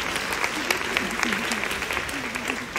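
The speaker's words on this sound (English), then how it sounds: "Let's give them a round of applause" Applause from an audience at a formal welcome gathering held at an academic institute, a continuous mid-level patter of clapping hands throughout with a faint voice running underneath.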